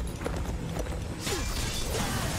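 Horse hooves clip-clop in a video game trailer, a brisk run of hoof strikes over a dense, steady bed of music and effects, with no one talking.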